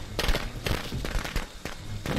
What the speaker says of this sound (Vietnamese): Có cái súng cũng dám bắn nè.